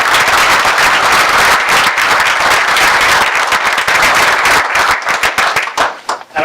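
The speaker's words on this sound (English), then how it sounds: "So if we may have one big round of applause for everyone." Audience applause at a borough council meeting, with dense, loud clapping that holds steady through the room before thinning into scattered claps at the end.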